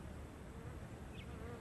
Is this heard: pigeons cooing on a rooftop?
no